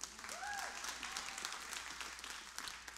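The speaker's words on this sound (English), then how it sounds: "Clap your hands if you're a believer." A church congregation claps along during a worship service, a steady wash of many hands filling the room, with a brief whoop or shout rising over the clapping early on.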